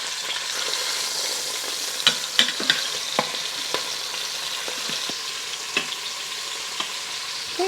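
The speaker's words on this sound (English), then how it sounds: "All right, I'm gonna flip my chicken over" Chicken browning in an Instant Pot on sauté, a steady close sizzle with scattered utensil scrapes and taps as the pieces are turned over.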